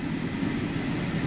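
A 2018 Subaru Legacy's 2.5 liter flat four-cylinder engine runs in a steady, low rumbling drone, heard from inside the car with no break and no voices.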